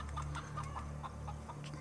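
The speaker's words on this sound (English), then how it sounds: "Oh wow, the chickens." Chickens in the video game Atom RPG, soft repeated clucking in short bursts, fairly faint over a steady low hum of game ambience.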